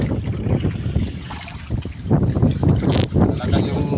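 Strong wind of about 10 knots buffets and roars across the microphone in loud, uneven gusts out on open water, with a voice faintly mixed in.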